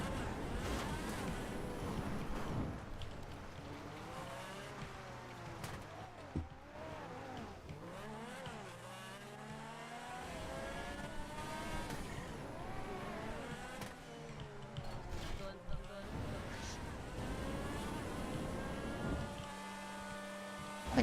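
A fast car's engine revs and shifts repeatedly, pitch sweeping up and down through gear changes in a steady, moderately loud drone with a few sharp squeals.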